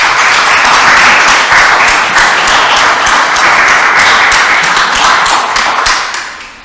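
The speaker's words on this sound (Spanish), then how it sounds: "Entonces les pido a todos los organizadores un fuerte aplauso." Audience applause at an inauguration event, loud, close hand clapping from a crowd with distinct individual claps standing out, holding steady before tapering at the end.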